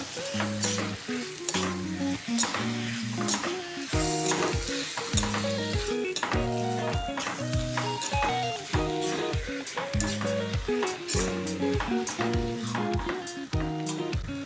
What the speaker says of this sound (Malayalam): ഇതിലേക്ക് വൃത്തിയാക്കി വെച്ചിരിക്കുന്ന ചിക്കൻ ഇട്ട് കൊടുക്കുക നന്നായി ഇളക്കി യോജിപ്പിക്കുക